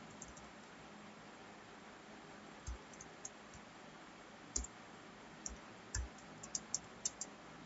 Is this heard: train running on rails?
no